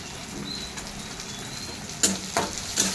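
Carrots, cabbage, peas, chickpeas, beans and tomato frying in a pan for suji upma, a steady close sizzle with a few sharper crackles and stirring scrapes near the end.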